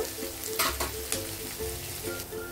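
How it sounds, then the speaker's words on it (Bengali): A steady, soft sizzle of onion, ginger and garlic frying in a pan for noodles, with occasional scraping stirs; no voices. "এটাও আমি এই পেঁয়াজের সঙ্গে ভালো করে কষিয়ে নেব"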